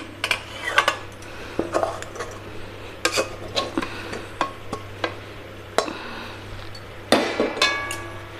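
Metal cookware clattering as a pot is lifted off a gas stove while making chusi pitha, a series of sharp clinks and knocks of metal against metal at close range, spaced irregularly.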